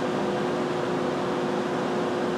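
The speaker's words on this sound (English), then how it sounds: "We can turn the blower on" Blower inside the dryer of a Branson Benchmark ultrasonic aqueous cleaning system, giving a steady airy whoosh with a faint constant hum, unbroken and fairly close.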